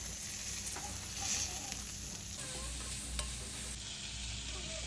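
A steady sizzle of onion and tomato frying in a pan, with faint stirring scrapes throughout.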